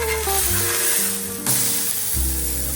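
Bacon sizzling on a Blackstone 22 inch griddle just after being flipped, a loud continuous crackling hiss near at hand, with a brief dip and burst of sizzle midway and low tonal hum beneath.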